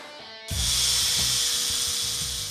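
Angle grinder cutting into a marble slab, bursting in abruptly after a low idle hum and holding a loud, bright, continuous scream with slight pulsing as the blade bites.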